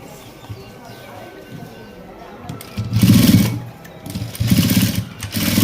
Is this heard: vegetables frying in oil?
no